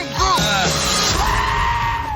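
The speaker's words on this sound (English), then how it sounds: "And giant goats. Oh, look at those. They are wonderful. Yes, they are. They also scream quite a lot." Giant goats from the Thor: Love and Thunder film screaming, a loud, harsh, wavering cry that rises and then holds under a dense wash of film sound, with one shrill bleat standing out near the start.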